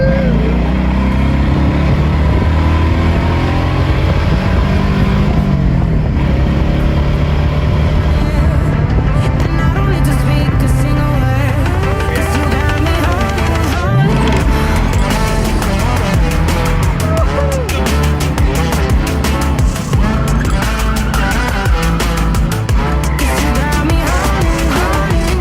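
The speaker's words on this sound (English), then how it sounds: "this thing is finally driving, and it's for the first time it's not shaking like crazy" Mercedes SL500 with a newly fitted engine driving smoothly, its steady engine drone and road noise loud and continuous throughout, with the pitch shifting slightly as it moves.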